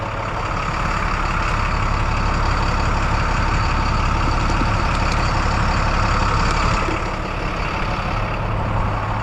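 A truck engine runs at high idle to charge battery packs, a loud, steady, dense rumble that continues unchanged throughout with no voices.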